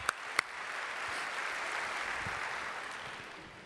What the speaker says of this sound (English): Can we give Samantha another big round of applause?